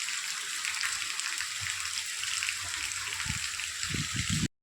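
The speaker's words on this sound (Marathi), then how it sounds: "मान्सूनचा पहिला पाऊस आहे मित्रांनो" First monsoon rain of the season pouring down after a hot, sunny spell, a steady dense hiss of falling water with low thumps and patters near the end, continuous and close without pause.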